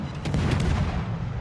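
Naval gunfire from a warship firing armor-piercing shells in World of Warships: a short run of heavy, booming shots with deep rumbling low end, dull and fairly distant, without any speech.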